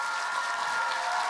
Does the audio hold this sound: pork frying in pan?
no